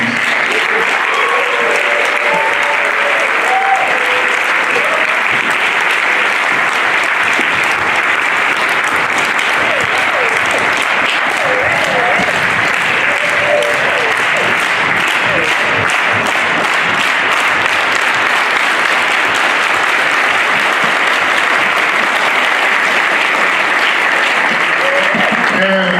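Sustained audience applause for guest speakers at a teachers' organizing talk, dense steady clapping filling the room for the whole stretch, loud and continuous with no pause.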